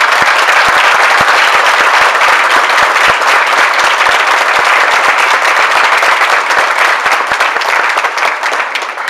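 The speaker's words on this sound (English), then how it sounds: "One more applause." Loud, sustained applause from a large conference audience, dense clapping that holds steady and eases slightly at the end, at a speech by the New York governor.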